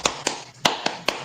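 Five sharp, separate hand claps come from an audience clapping on cue, close and crisp with short, slightly uneven gaps between them.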